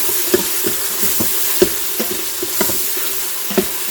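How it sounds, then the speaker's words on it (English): Ginger paste for chicken karahi sizzles steadily in hot oil. Rhythmic spatula strokes tap and scrape about twice a second, close and fairly loud. "Let it fry a little bit."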